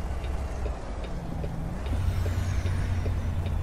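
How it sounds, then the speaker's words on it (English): A Kenworth W900 truck's engine brake in American Truck Simulator rumbles steadily with a deep, throaty drone that grows louder midway, with faint clicks and a rising whine above it. "both of those are probably the best Jake brakes in the game"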